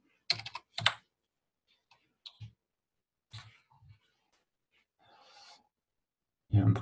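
Someone types a name on a computer keyboard while creating a Google account, giving a few sparse, close key clicks in short bursts separated by silence.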